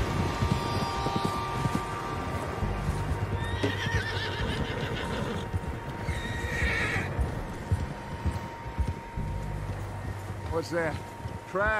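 Several horses whinny and neigh over steady clip-clopping hooves in Red Dead Redemption 2, set against a dense, busy game soundscape with continuous background noise.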